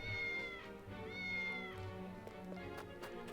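A cat meows in the video game Triangle Strategy, a few drawn-out, rising-and-falling cries over a steady background music bed, fairly close and clear.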